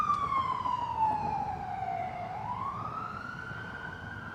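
Police siren in a city street near Bourbon Street, its wail sweeping down then rising again as the vehicle passes at moderate distance, over low traffic rumble, no speech.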